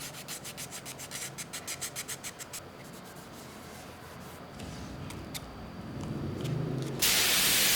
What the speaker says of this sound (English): After the primer sets, I begin wet sanding.